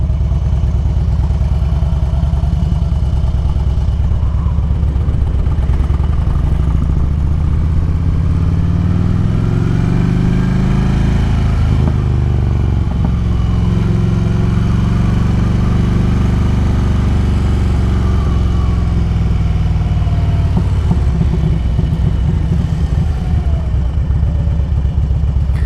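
Harley-Davidson Road King motorcycle cruising along the road, its engine a continuous loud low throb that rises and falls with the throttle, mixed with wind rush and no talking.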